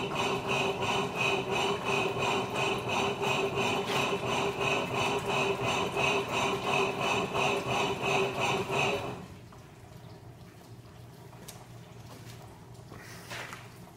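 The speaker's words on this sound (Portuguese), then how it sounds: "a máquina entrou no processo de remoção da água, então ao mesmo tempo que ela está fazendo essa agitação," A washing machine under restoration agitating while draining, a loud rhythmic churning pulse for about nine seconds that suddenly cuts to a quiet trickling, gurgling drain with faint knocks and no talking.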